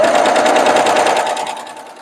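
A sewing machine hems finicky chiffon fabric, its rapid even stitching chatter running close and loud before easing off toward the end, with no talking.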